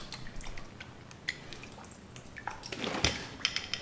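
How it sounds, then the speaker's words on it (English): Water from a kitchen faucet rinsing out a paint spray gun, a soft trickling and dripping that swells into a louder splashing rush toward the end, heard alone and fairly close. "I just do my final rinse."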